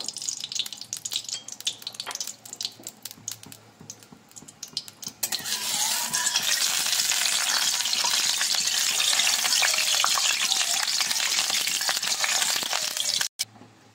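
Refined white oil heats in a wok (kadai) on a gas stove, starting with faint crackles and clinks, then swelling after a few seconds into a loud, steady hissing sizzle that cuts off abruptly near the end.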